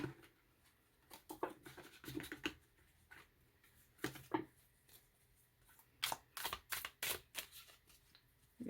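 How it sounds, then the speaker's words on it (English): Thick tarot cards are riffle shuffled several times, each a quick burst of flapping, clicking riffles separated by short pauses, close and fairly quiet. "these cards are super thick, so riffle shuffling is not really the way to go"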